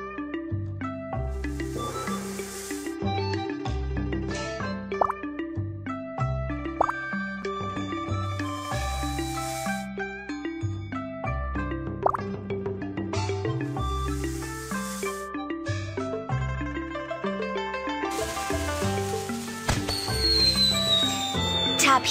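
Cartoonish dripping and filling effects play as a fireworks tube is filled in the Baby Panda Chinese holidays mobile game, over a steady, bouncy musical backing.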